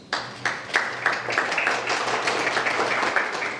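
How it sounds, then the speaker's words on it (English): Audience applause for the International Rescue Committee at the Seeds of Dignity event, a steady wash of clapping running through the whole stretch with a few sharper claps standing out, and no speech over it. "Please join me to give them a round of applause"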